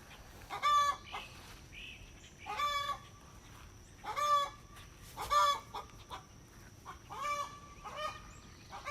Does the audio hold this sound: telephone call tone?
no